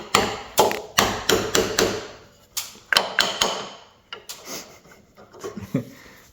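A series of sharp hammer taps on a metal part of a Storm Vulcan Block Master, roughly evenly spaced at first then irregular, each striking hard with a ringing, gritty edge, close and loud.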